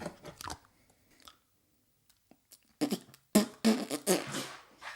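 Biting and chewing into modeling clay: a few soft crunchy bites and wet mastication noises up close, sparse at first then denser and louder toward the end, with no talk.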